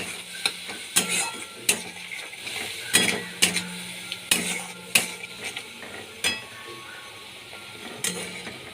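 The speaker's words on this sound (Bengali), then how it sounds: "মশলাটা দিয়ে দিচ্ছি ভালো করে কষিয়ে নিচ্ছি" Spices sauté in a pan for a sweet cauliflower and potato curry, with repeated sharp spatula scrapes and clinks against the pan over a soft, steady sizzle.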